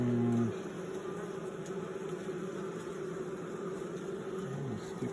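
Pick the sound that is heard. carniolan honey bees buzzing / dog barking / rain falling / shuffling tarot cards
carniolan honey bees buzzing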